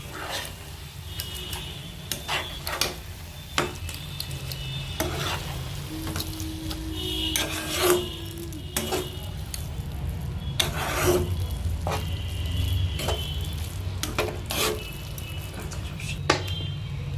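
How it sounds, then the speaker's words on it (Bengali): Mashed eggplant for begun bharta, with chopped coriander added, is stir-fried in a pan. A steady sizzle runs under repeated scraping strokes of a spatula, with occasional clicks against the pan. "এবার মায়ের মধ্যে দিয়ে দেবে কুচো করে রাখা ধনেপাতা। এবার মা ভালো করে কষিয়ে নেবে।"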